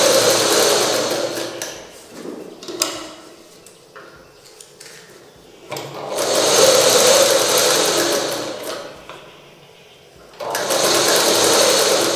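A sewing machine stitches a dart seam in dressmaking fabric, running in three loud close bursts of rapid whirring separated by quieter pauses with fabric handling and small clicks.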